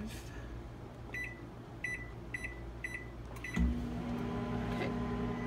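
A microwave oven hums steadily while heating a full skein of wool yarn for dip dyeing. A series of short, evenly spaced beeps sounds over the hum, then a soft thunk, and the hum continues afterward.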